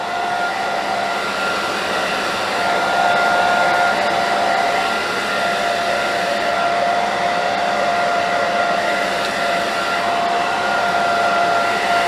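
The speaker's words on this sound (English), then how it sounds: "Being very careful not to burn her with the iron, the blow dryer, because that gets pretty hot." Handheld blow dryer running steadily while drying a live model's hair after a crown layer haircut in a cosmetology lesson, a continuous close whir with a faint tonal whine and no speech.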